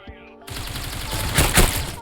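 An M4 rifle fires in the Critical Ops mobile shooter game as one loud, close, rapid automatic burst that runs steadily for over a second and a half after a brief quiet start.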